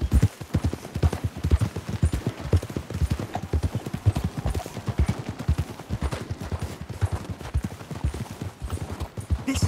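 Horses galloping in the video game Red Dead Redemption 2, a steady, loud, continuous drumming of hooves close by for the whole stretch, with no talking.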